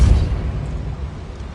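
A Depulso spell cast in the video game Hogwarts Legacy lands as a single heavy, booming burst up close, its low rumble fading out over a second and a half with no talk.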